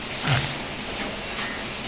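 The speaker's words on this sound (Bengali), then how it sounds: "বৃষ্টি তো রান্না হয়ে যাওয়ার পরেই এসছে" Steady rain patters in the background, with a brief brighter hiss early on; no one speaks.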